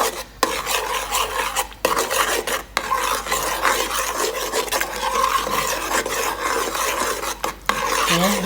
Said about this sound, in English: Stir it all the way in. Get rid of all those lumps.